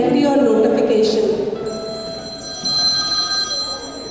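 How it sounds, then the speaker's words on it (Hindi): A phone rings with a bell-like tone and a notification chimes in a Sunday school skit, the steady ringing tones sustained through the second half beneath a speaking voice. "फिर बजती है हमारी फ़ोन की घंटी और नोटिफिकेशन"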